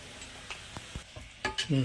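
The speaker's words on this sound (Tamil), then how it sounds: "உப்பு போட்டு நல்லா கிளறியாச்சு" Salted chicken for biryani stirred in a pan, a few soft scraping taps of a spoon over a faint sizzle, close and brief.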